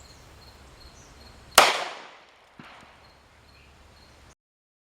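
A DoubleTap .45 Auto tactical pocket pistol fires a single loud, sharp shot at a range, its report ringing off and decaying over about half a second, followed a second later by a fainter secondary crack.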